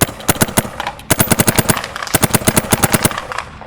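Empire Axe 2.0 paintball marker firing single shots outdoors, a loud sharp string of rapid pops with a brief pause before the next burst.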